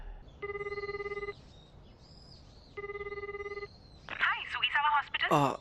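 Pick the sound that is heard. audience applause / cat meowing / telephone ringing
telephone ringing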